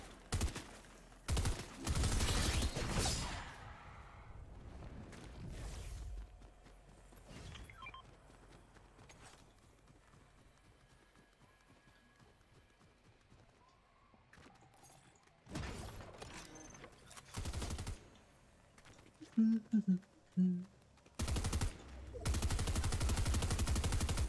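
Gunfire from the video game Fortnite comes in loud bursts at the start, around the middle and near the end, with quieter game ambience and faint mechanical noises between them.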